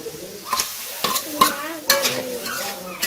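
Fresh fish from a small canal poured into a hot pan over a clay stove, giving a bright sizzling fry with several sharp bursts of crackle and stirring clatter up close, no talk.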